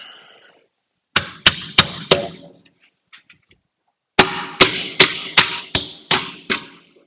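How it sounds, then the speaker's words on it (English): Hammer blows drive 8D nails into wooden sides: a quick group of four sharp strikes, a pause, then a steady run of about seven more, close and loud. "And nailing the sides."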